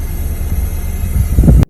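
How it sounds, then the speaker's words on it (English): An air conditioner compressor gives a steady low mechanical rumble with a rough grinding edge that swells louder toward the end before cutting off abruptly. "If you hear a grinding or screeching noise that sounds like this"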